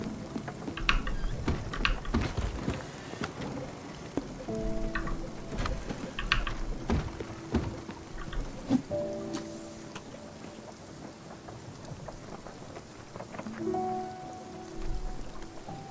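A thunderstorm with rain in the video game Spiritfarer: steady rainfall patters throughout, with scattered sharp cracks and rumbles and occasional tonal game sounds, and no talking.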